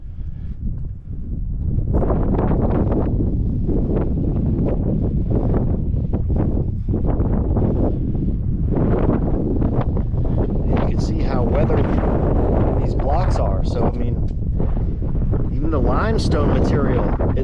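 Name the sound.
strong wind blowing with sand at the Red Pyramid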